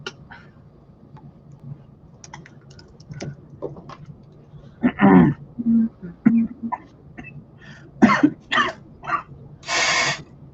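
A few scattered coughs and throat-clearing sounds, close and fairly loud, mixed with soft clicking like typing in a quiet room.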